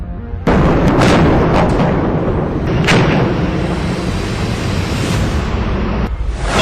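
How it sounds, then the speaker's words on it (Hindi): Sustained army gunfire during a prolonged armed encounter with militants hiding in the EDI building at Pampore, Pulwama, loud, dense, continuous bursts and booms rolling for several seconds, then cutting off abruptly near the end. "ईडीआई बिल्डिंग में छिपे आतंकियों पर सेना के जवान फायरिंग करते रहे।"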